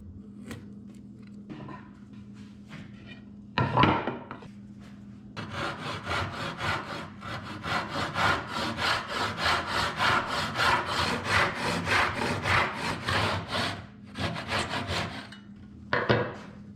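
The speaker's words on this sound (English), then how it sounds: "After shaping, I cut the miters." A hand saw cuts miters in a wooden picture frame made with hand tools only. Rhythmic back-and-forth rasping strokes come after a few brief scrapes, then a long run of steady sawing follows, close and fairly loud.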